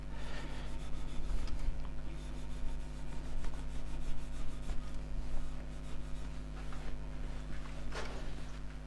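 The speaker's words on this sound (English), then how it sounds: "you can stop the lathe and kind of rub it up" A hand rubs a still-hot, 3-inch square box elder bowl held on a stopped wood lathe, giving a soft continuous friction rasp over a steady low electrical hum.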